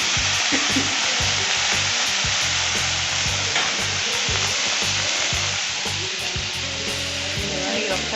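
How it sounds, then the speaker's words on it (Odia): Mustard seeds crackle and sizzle in hot oil in a kadhai (wok) as Maggi noodles get started, a loud, dense, continuous frying hiss with rapid popping and faint scraping throughout. "କଡ଼େଇଠି ବସେଇଦେଲି ସୋରିଷ ପକେଇଦେଲି"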